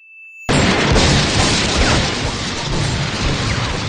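Gunfire from an anime character in Hellsing Ultimate emptying a weapon of many bullets: a sudden loud blast after a brief tone, then a dense, sustained roar of rapid shots that eases slightly toward the end.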